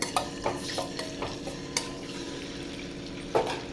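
Eggs frying in leftover oil in a pan, the oil already used for frying onions for egg dum biryani: a steady low sizzle with a few sharp scraping clicks of a spatula turning them, close by.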